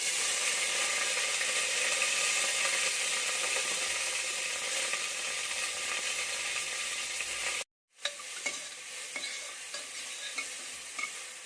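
Curry leaves hit hot oil in a pan for tomato rice, giving a loud, steady, continuous sizzle that cuts out briefly and then returns with crackling spatters, with no talking.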